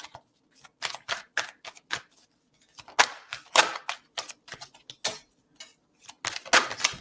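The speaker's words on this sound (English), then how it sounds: "It's time to stop shuffling." Playing cards are shuffled in quick, crisp bursts of snapping and riffling, close and fairly loud, with short irregular pauses between rounds.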